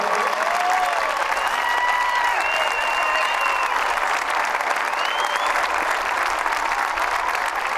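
Steady, even applause from a large commencement audience at the University of New Hampshire, a continuous wash of clapping with a few whistles and shouts rising above it.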